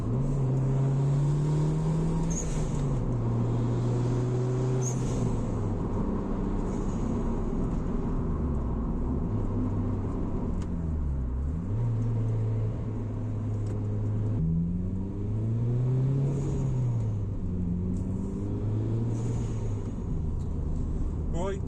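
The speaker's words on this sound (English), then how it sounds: "we're out in the ST now and we're just having a little drive around" Ford ST being driven on the road, engine droning and rising and falling with gear changes and revs, steady road rumble throughout, heard from inside the car with some talk over it.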